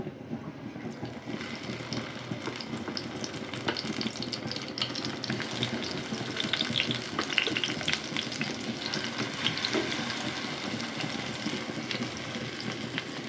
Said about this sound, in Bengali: চুলায় তেল গরম দিয়েছি একটা একটা করে তেলের মধ্যে দিয়ে দিব